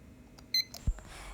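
A kitchen timer set while peanut butter cookies bake chirps briefly, a short bright beep followed by a soft click, close and clear in a quiet kitchen.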